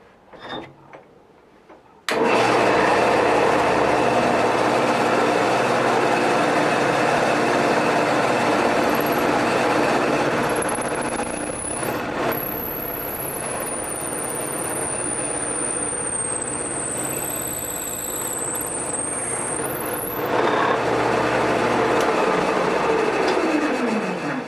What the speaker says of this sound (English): we'll drill the hole